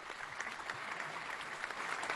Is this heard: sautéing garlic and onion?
no